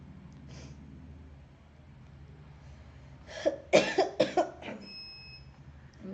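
A person with a cold and fever coughs several times in a quick, close cluster against a quiet room background.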